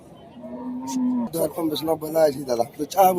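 At a bull cattle market in Chowbaria, a cow gives a long, low, close moo, followed by people talking over the busy market.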